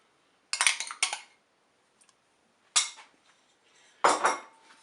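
Pork roast being mixed with a spoon inside a Cookeo pot, four separate bursts of metal scraping and clinking with quiet gaps in between, close and clear with no voices.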